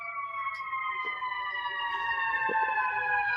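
A steady wailing siren sounds at a distance, its high tones gliding slowly, fairly faint with quiet background noise.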